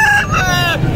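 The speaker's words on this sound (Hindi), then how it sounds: "ये जी मुर्गा बड़ा अच्छा है" A rooster crows loudly and close by at a Rawalpindi bird market, one harmonic call that rises and then falls away, heard over low background rumble.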